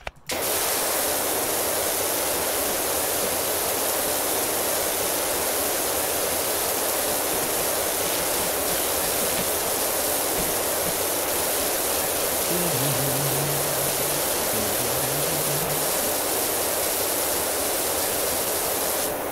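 Steady broadband hiss of a pressure washer spraying in the game Power Wash Simulator, a loud constant rush that runs unbroken for the whole stretch, with a faint low tonal wobble near the end.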